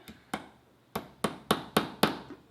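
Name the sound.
hammering a picture hook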